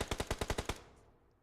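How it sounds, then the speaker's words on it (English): Automatic gunfire in a PUBG Mobile esports match, a rapid burst of about eight loud, evenly spaced shots fading into a short echoing tail. "We do hear a lot of gunshots, but it's nothing critical happening yet."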